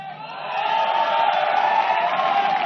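Crowd applause and cheering from an audience at a public speech, a dense steady roar that swells in the first half second and then holds loud and continuous, with no clear talk on top.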